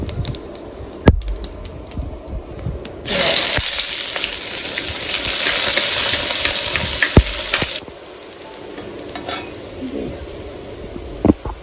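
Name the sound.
cumin seeds and onion frying in hot oil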